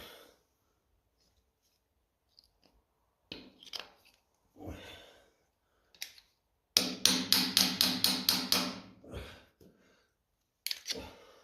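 Metal-on-metal hammer blows drive an old bushing out of a 1955 Ferguson 20 TED TVO tractor's rear end: a few scattered taps, then a quick run of about eight sharp strikes, and a final pair of hits.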